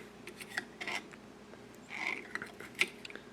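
Small metallic clicks and light scraping as a blade is fitted onto a Milwaukee M12 Fuel cut-off tool, several brief close taps spread across the quiet moment.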